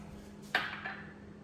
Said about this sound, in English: Give it one final mix around.